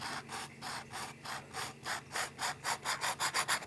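A Kaweco fountain pen with a scratchy nib writes on Field Notes paper, giving a close, dry rasp of repeated strokes that quicken and grow louder toward the end.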